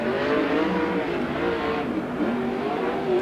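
A 410 sprint car running a qualifying lap at an oval track roars steadily at moderate distance, its engine pitch rising and falling as it circles.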